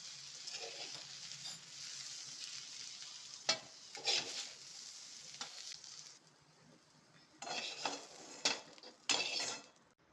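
Okra frying in a pan for a dahi bendi yogurt gravy, a steady soft sizzle broken by sharp clinks and scrapes of a spoon stirring against the pan, close by with no voice.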